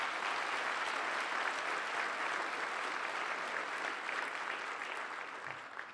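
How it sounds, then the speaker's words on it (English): A crowd at a Westchester County Executive inauguration applauds a congressional delegation, a sustained wash of clapping from a large audience, steady and fairly distant, easing slightly at the very end. "And let's give them another round of applause."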